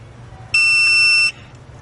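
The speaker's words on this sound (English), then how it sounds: "Wait for the second beep." A single sustained electronic beep from a TST 507SC truck tire pressure monitor, steady and fairly loud, lasting under a second over a low background hum.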